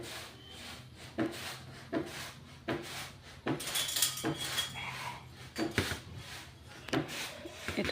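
Grated coconut being stirred in a hot kadai (wok) as filling for patishapta, with repeated scraping and clinking of a spatula against the metal pan over a faint dry sizzle, close and steady.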